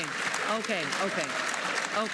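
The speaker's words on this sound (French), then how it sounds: "ça, c'est les applaudissements de la droite et de l'extrême droite suite à leur victoire" Applause from right-wing and far-right lawmakers in the European Parliament, a steady wash of clapping heard under continuous overlaid talk throughout.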